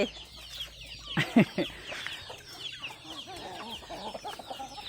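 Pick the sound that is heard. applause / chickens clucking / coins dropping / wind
chickens clucking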